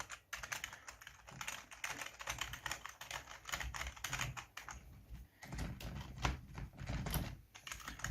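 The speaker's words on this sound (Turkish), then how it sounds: "Ben klavyenin üzerindeki tuşlara rastgele basıyorum." Random key presses on a Piranha 2345 RGB non-mechanical gaming keyboard, a dense, irregular patter of soft plastic key taps running steadily throughout, close and fairly quiet, with no voices.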